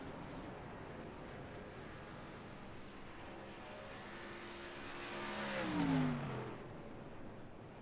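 Race cars in the NASCAR iRacing video game, practice at Daytona, drone at a distance with a faint, steady engine roar that swells briefly as one car passes closer and revs before fading back.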